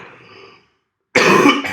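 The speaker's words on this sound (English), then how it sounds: "sorry, still got the cough." A single harsh cough bursts out close and loud after a brief faint breathy sound and a moment of silence.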